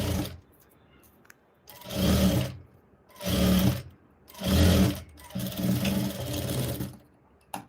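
Sewing machine stitching along the folded edge of blouse fabric, running in five separate bursts of about a second each with short pauses between, close and fairly loud, no talk.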